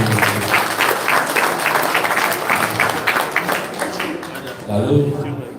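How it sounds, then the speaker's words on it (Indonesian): A crowd claps along at a public address, heard as a dense, lively wash of applause beneath a few voices, thinning slightly toward the end. "Beri tepuk tangan buat semua."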